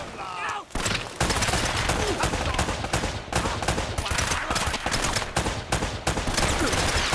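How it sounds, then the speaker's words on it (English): Enemy gunfire rattles continuously in Uncharted: Drake's Fortune, dense rapid bursts of close, loud shots filling the whole stretch with barely a pause. "Stop freaking shooting at me."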